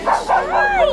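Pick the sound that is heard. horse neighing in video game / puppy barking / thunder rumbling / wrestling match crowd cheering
puppy barking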